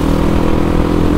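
Yamaha WR motorcycle with a bored-out exhaust, its engine running loud and close in a steady, throaty drone with no speech.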